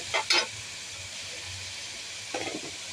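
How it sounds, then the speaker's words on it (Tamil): Shredded cabbage sautés in a pan for fried rice, a soft, steady sizzling hiss broken by brief stirring scrapes at the start and again near the end. "கோஸையும் போட்டு நல்லா வதக்கணும்."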